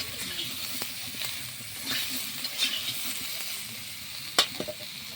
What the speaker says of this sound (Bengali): এঁচোড়টাও আমি এখানে একটু ভেজে নিচ্ছি।